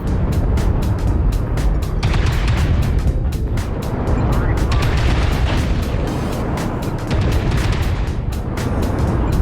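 Twin ultra autocannons in MechWarrior Online fire in rapid repeated bursts of loud, sharp shots over the heavy rumble of a walking mech, the volleys coming in quick clusters throughout.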